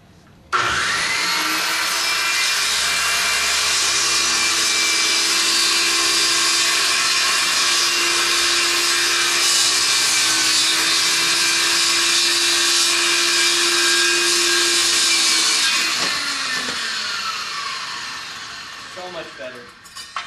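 A Makita corded power tool cuts wood wainscot with a loud, steady high-pitched whine that runs unbroken for about fifteen seconds before spinning down at the end.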